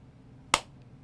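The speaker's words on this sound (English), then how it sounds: "So you heard the clap before the video." One sharp, isolated hand clap close to the microphone, made as an audio-video sync test, standing alone against a quiet background hum.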